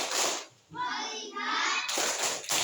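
A group of children and adults at a storytelling session performs a rhythmic clap-and-chant routine, voices chanting in unison with light hand claps, loud and close, with a brief pause between phrases.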